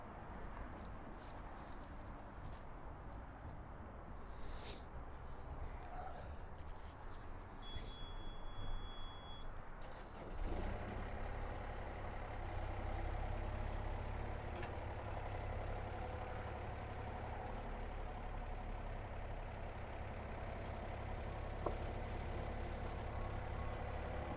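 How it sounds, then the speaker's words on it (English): The diesel engine of a heavy machine rumbles low and steady while it lifts a cracked foundation wall. The engine grows louder and heavier partway through, and faint beeps and clanks come from the site. "Tucker, why don't you jump in the machine and lift it up?"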